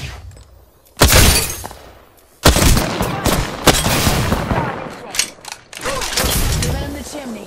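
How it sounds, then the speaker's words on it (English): Bursts of gunfire ring out in the Apex Legends game, sharp loud volleys and rapid shots clustered together, with brief mechanical clanks and a voice in between. "Listen up, I'm getting shot at."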